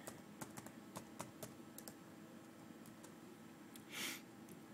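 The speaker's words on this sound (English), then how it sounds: "let me key in my password." Someone keys in a password on a computer keyboard: a run of separate, close key clicks with a small irregular rhythm over faint background hiss, followed by a brief louder rustle near the end.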